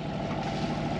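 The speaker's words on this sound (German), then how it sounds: "Ja, Motor lief jetzt durch seit dem Test." A sailboat's inboard engine turns over at low revs, around 1300 to 1400, making a continuous close, rumbling drone with steady chugging and no speech.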